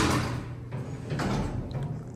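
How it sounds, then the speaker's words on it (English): Heavy pass-type doors of a modernized Otis hydraulic freight elevator slide along their track in a steady rumbling run of about two seconds, with a brief clunk near the end, close by and alone. "These are pass type doors, so these are a lot more heavier."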